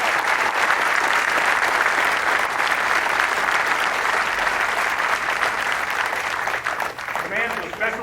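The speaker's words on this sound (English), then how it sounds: "Please join me in a round of applause." Crowd applause at a 101st Airborne Division change of command ceremony at Fort Campbell in 2011, loud sustained clapping from a large audience that stays full and steady before thinning slightly near the end.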